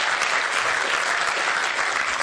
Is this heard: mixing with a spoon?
no